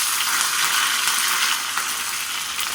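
Curry leaves frying in hot oil in a pan for a rock fish curry, giving a loud, continuous crackling sizzle with faint stirring scrapes, close up and with no talking.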